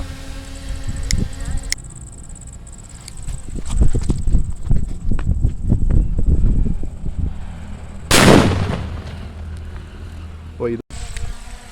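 A colour bomb firecracker goes off outdoors: scattered crackling pops and bangs build up, then one loud, rushing burst erupts near the end, with faint voices in the background.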